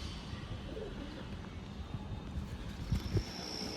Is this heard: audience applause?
no